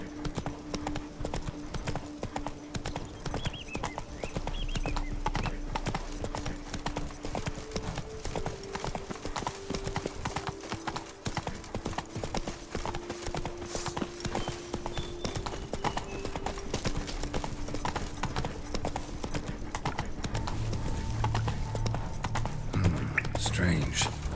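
Hooves of the horse Roach clip-clopping steadily in The Witcher 3, a continuous rhythmic trot under background music and occasional voices.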